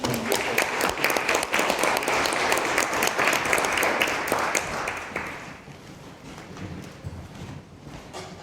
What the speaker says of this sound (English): would you give a big round of applause for my friends Benoit Trudeau and George Beresford